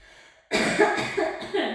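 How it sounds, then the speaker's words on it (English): A sudden coughing fit during a Pilates class: several harsh, close coughs in quick succession, each rough and throaty, following a brief quiet moment. "Sorry, I've got a coughing fit."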